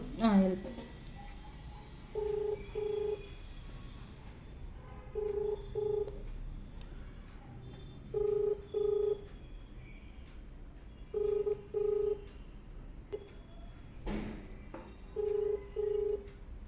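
An outgoing phone call rings back in a repeating pattern of paired tones, five rounds spaced evenly across the stretch, fairly quiet, with faint voices speaking in the background between rings.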